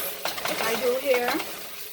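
Salt fish chunks frying in a pan and being turned, with a steady close sizzle and scraping stir strokes running through two seconds.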